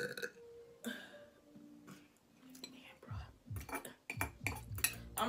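A loud, deep soda burp from a person, with several rough, croaking eructations bursting out in quick succession near the mic, mixed with faint clinks of cutlery and soft voices.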